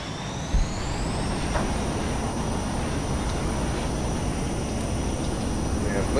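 A VTOL aircraft in the VTOL VR video game spools up for takeoff, with a steady turbine whine rising in pitch and then holding over broad rumbling engine noise throughout.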